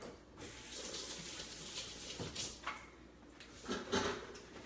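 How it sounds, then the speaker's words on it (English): Water from a kitchen tap splashes as a food processor lid is rinsed, making a steady rushing hiss with a few clatters as the lid is moved under the stream; quiet and fairly close. "Let me rinse off my lid."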